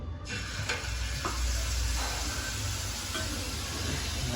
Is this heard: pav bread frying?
yes